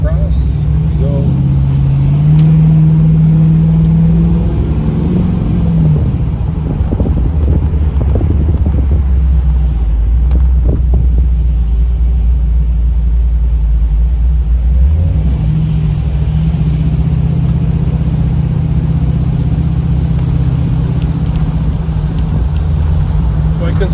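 A 1981 NASCAR Trans Am with a swapped LS3 416 engine cruises in daytime, its deep engine rumble steady and loud with pitch shifts as it changes speed, and wind noise layered over it throughout.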